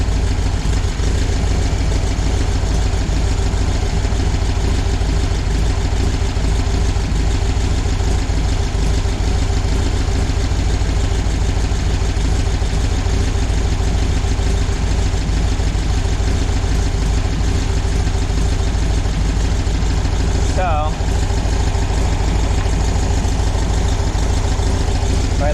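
VW air-cooled stroker engine idling steadily, a loud, continuous low rumble with an even mechanical drone throughout and one brief sweeping change near the end.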